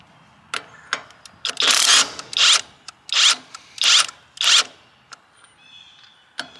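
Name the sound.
OLMLMO cordless 1/2 inch impact wrench running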